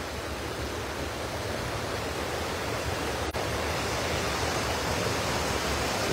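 Heavy water overflows the spillway of the large Araras reservoir, a steady, loud broadband rush that continues without a break from start to end.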